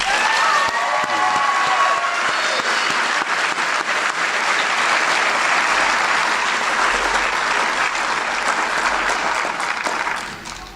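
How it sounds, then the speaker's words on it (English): Sustained audience applause fills a commencement ceremony hall, dense and steady for about ten seconds with a few early shouts, before tapering off at the end. "So can I get one more round of applause?"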